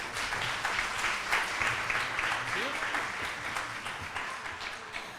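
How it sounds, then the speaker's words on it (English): Warm applause from an audience at an annual meeting of a decorative arts and history society, steady dense clapping filling the room for several seconds with a faint voice briefly audible underneath. "Can we have a warm round of applause for Nick?"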